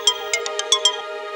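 A mobile phone ringtone plays a short, bright melodic phrase of several quick tones, clear and close with no talking over it.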